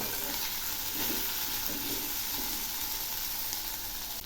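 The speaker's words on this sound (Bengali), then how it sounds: "এই পেঁয়াজের সঙ্গে আলুগুলো একটু ভালো করে ভেজে নেব।" Sliced potatoes and onions, seasoned with salt and turmeric, fry in hot oil with a steady, dense hiss and sizzle, punctuated by a few soft stirring knocks near the start.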